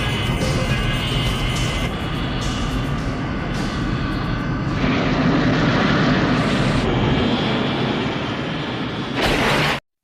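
A large aircraft roars loudly and continuously during takeoff in an action film, a dense engine rumble with layered score or effects that shift partway through before cutting off abruptly.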